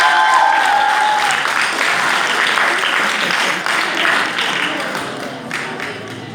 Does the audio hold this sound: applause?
yes